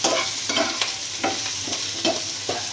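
Potatoes and chopped garlic frying in oil, alone with no voices, give a steady close sizzle broken by several regular scraping stirs of a spatula.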